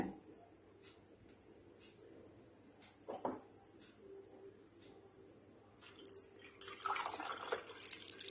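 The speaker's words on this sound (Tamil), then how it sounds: "இது நான் வந்து வடிகட்டிட்டு உங்களுக்கு இப்போவே காமிக்கிறேன்" Homemade ginger raisin wine is strained in a home kitchen: faint, sparse drips ticking into a container, then a brief soft trickle of pouring liquid near the end.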